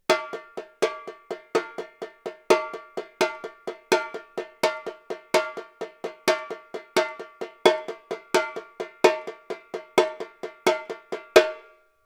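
Repinique drum played in bloco afro style with both hands: a steady run of sharp, bright, ringing strikes, the main beats filled in between by lighter strokes, close and loud with no talk, for about twelve seconds.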